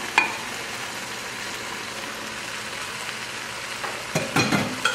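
Shiitake mushrooms cut into large chunks hit a hot pan, giving a steady soft sizzle with a sharp spatter at the start and louder stirring bursts near the end.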